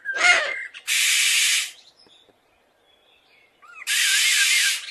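A cartoon eagle uses its voice to imitate a mother bird's call: a short warbling cry, then two long, harsh rasping caws separated by a quiet gap, loud and close.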